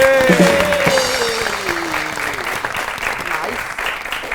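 Studio audience on a Pakistani comedy talk show bursts into applause, loudest at first and then thinning gradually, while a host's voice and faint music carry briefly over the start.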